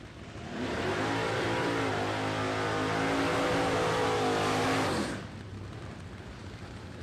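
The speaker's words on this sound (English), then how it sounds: "Sweet, sweet sound of Nitro powered goodness from the pits as another funny car starts up." A nitro-fuelled funny car engine fires up in the drag strip pits, a loud, rough, rumbling roar that holds steady for several seconds, then cuts off to a lower background noise.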